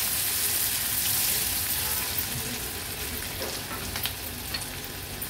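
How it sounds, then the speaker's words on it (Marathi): Finely chopped small onion fries in oil with curry leaves over a low flame, giving a steady close-up sizzle with occasional soft stirring scrapes and pops. "कांदा तेलावर थोडा परतून घेते"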